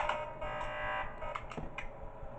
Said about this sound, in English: Keep the alarm sounding, because they're both here.